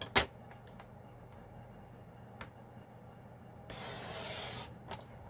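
Paper trimmer slicing cardstock for a handmade bay window card, a brief soft rasping swipe of about a second after a sharp tap and a few light clicks, close and quiet.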